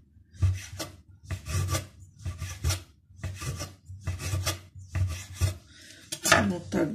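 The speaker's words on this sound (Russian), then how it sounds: "пальчики убираем и вот так нарезаем широкую такую лапшу" A knife cuts through rolled homemade noodle dough into wide strips in about seven even, rasping strokes on a wooden board, each stroke close and distinct with short pauses between.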